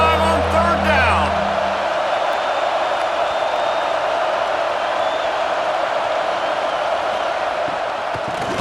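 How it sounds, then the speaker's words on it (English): A stadium crowd of Ohio State fans roars during a college football video game, a loud, continuous wash of cheering that holds steady, with a voice briefly over the start. "The Buckeye crowd alive on 3rd down."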